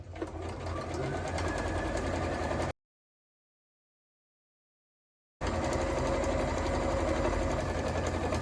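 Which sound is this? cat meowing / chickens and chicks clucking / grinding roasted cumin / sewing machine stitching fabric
sewing machine stitching fabric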